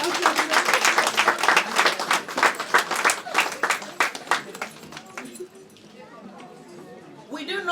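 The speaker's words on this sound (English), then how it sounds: "Let's clap for her again." Guests at a 50th birthday party in Milton Keynes clap together in a dense burst of applause, fairly close, that fades after about five seconds into quieter murmuring before a brief rise at the end.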